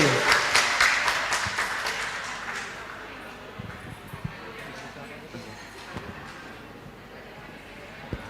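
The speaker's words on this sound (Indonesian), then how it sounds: "Kita beri tepuk tangan yang meriah untuk Dr. Meli Ansori." An audience at a medical association seminar on licensing applauds the moderator: a full burst of clapping that thins and fades over about three seconds, leaving scattered claps and room murmur with a voice speaking.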